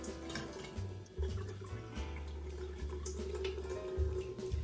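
Colby cheese curds draining in a mold in a home kitchen: soft, continuous trickling and dripping of whey, faint and close, with a low steady hum underneath and no talk.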